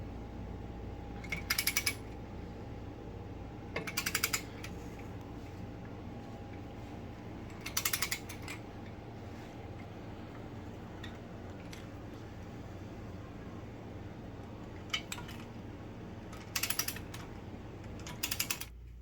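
A ratchet tightens the 7/16 plenum plate bolts on a 1997 Dodge Dakota 3.9 V6 intake manifold, giving short bursts of quick clicking spaced a few seconds apart over a faint, steady background hum.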